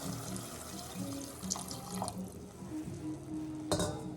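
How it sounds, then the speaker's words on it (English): Broth pours into a pan of oven-roasted tomato risotto with a gentle watery trickle and splashes, close and moderate, easing off and then ending with a brief clink. "And I'm going to add some more of the broth."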